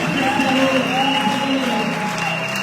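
A church congregation applauding during a worship service, a continuous crowd clapping spread over sustained music and voices, loud and even throughout the short stretch.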